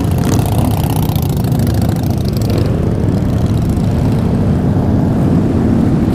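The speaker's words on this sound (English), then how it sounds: "my bike's making noise again." Loud motorcycle with a flame-thrower style exhaust running close by, a continuous heavy engine roar that rises briefly and then settles, with no talking over it.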